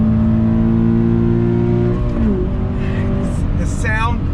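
A 2020 Toyota 86 Hakone Edition sports car engine revs up loud and close, holds a climbing tone, then drops sharply on a quick gear shift before pulling again. A voice speaks over the engine noise.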